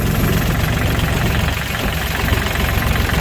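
A Kubota L4018 tractor's diesel engine idles loud and close, a steady continuous knocking rumble with no voices.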